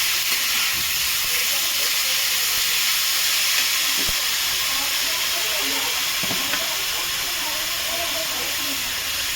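Beetroot frying in a pan: a loud, steady hiss and sizzle that runs throughout with a few faint clinks, and no voices over it.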